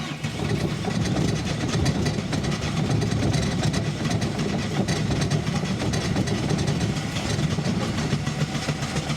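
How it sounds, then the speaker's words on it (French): An engine left unused for 15 years runs after being started with starting spray, a loud, steady idling rumble with a fast rattling rhythm lasting throughout. "il est démarré, donc vraiment increvable, 15 ans après on le redémarre"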